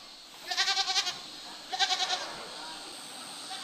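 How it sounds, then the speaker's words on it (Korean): Black goats on a mountain pasture farm give two short bursts of bleating, each a quick wavering series of calls, with a pause between them over a steady outdoor background. "윤기 나는 검은색의 털이 시선을 이끄는 이 동물, 바로 염소인데요."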